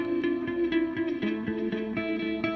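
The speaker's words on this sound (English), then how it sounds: "Yeah, you can definitely hear the phaser there." Electric guitar played through a phaser with distortion, a few sustained chords and rhythmic strums with a sweeping, swirling tone, loud and close.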